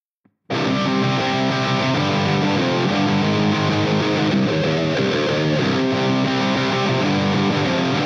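Heavily distorted electric guitar plays the chorus rhythm of an Escape the Fate song, loud and continuous after a brief silent start, with steady chugging chords and shifting palm-muted notes and no voices.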